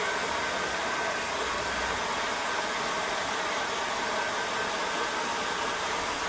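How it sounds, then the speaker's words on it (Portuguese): Mains-powered hair dryer heating fabric for a zipper channel on a sewing project, a steady, close rushing whoosh of blown air that runs unbroken at constant level. "Meu secador muito moderno, né? Tem que ligar na tomada pra ele funcionar."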